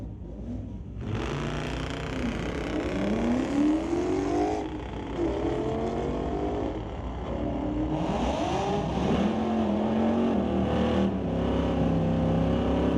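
A 1964 Plymouth fitted with a Dodge 440 and a 2003 Mustang drag race side by side on a street-legal night at a raceway, engines roaring and revving loudly through rising, shifting gear sweeps, with steady crowd-level background.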